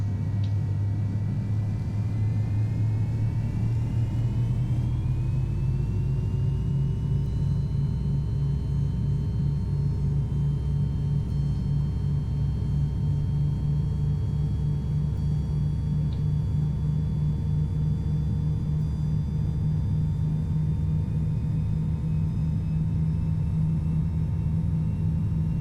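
An American Airlines MD-80 in a flight simulator game on its takeoff roll, engines droning and rising steadily in pitch over a long, continuous low rumble.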